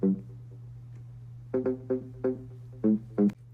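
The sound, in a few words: house mid bass with Soundtoys Decapitator saturation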